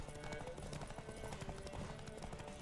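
Rapid horse hoofbeats clatter in a steady galloping rhythm in The Witcher 3, fairly quiet and continuous, with game music or ambience underneath.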